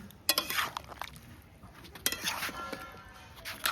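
Meat curry with potatoes being stirred and sautéed in a pot, with spoon scrapes and clinks against the metal over a soft sizzle, arriving in a few clustered bursts.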